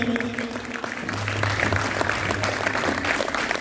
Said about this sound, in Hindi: ये ईगल क्लब के लिए सब तालियां बजाएं।